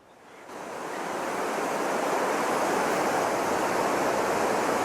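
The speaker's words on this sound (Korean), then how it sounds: "나야가라 폭포를 보십시오." Niagara Falls roars as a loud, steady wall of rushing water, swelling in over the first second and then holding constant with no voices.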